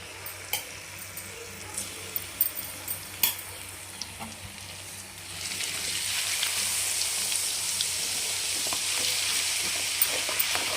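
Chicken frying in a pan for pickle gives soft scattered taps and stirring at first, then a steady louder sizzle rises midway and continues, close and without talking.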